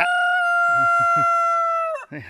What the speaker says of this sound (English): Sounds like a chicken's in there laying an egg right now.